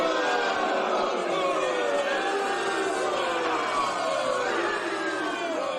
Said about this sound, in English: Oh, I love a good boo like that.